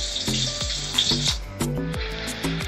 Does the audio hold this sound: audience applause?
no